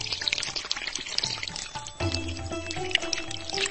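Magical genie shower pouring water in the Shimmer and Shine Genie Palace Divine kids' game, a steady splashing stream with drips and bright bubbly game chimes over a backing melody, no talking.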